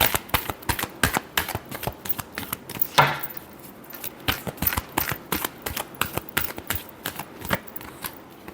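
Tarot cards being shuffled in a repeated series of sharp, crisp riffles and taps, fairly close and steady in rhythm, with no talking over them.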